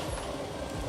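A truck's air brakes release in one brief continuous burst of hissing air, loud and close, with engine rumble beneath.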